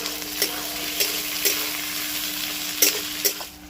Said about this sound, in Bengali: পেঁয়াজটাকে পুরো লাল করে ভেজে নেব